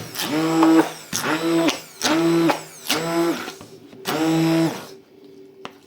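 A kitchen mixer or blender whips ice cream or cream mixture in five short bursts, its motor whine rising and stopping each time, loud and close with brief pauses between.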